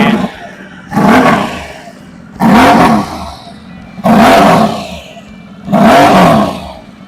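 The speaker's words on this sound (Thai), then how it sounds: "มาฟังเสียงเครื่องยนต์กันหน่อยนะครับ มาครับมาฟังเสียงท่อกันหน่อย" A 2023 Harley-Davidson Sportster S motorcycle engine is revved hard four times in a row, each loud roar held for about a second before dropping back to idle.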